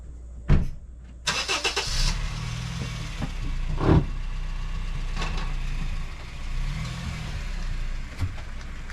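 A car started by a mobile mechanic: a brief cranking burst, then the engine catches and settles into a steady idle with small revs, heard close with no talk.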